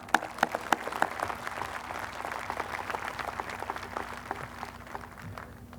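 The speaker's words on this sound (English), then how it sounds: "And a round of applause for all of them one more time." Audience at a Monty Tech graduation ceremony applauds the honored service members in a steady, moderately distant wash of clapping, with a few sharp individual claps standing out, lasting throughout without talk.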